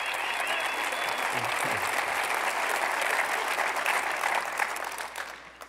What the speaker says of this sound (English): Let's give one more round of applause for uh, Coach Kevin Young